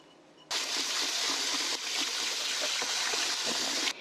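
Running water pours steadily over salted jellyfish being rinsed, a close, continuous splashing gush that starts abruptly and holds throughout.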